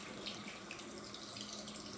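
Tap water runs steadily and fairly close while a silicone art doll is rinsed at a sink, a continuous even splash with no voices.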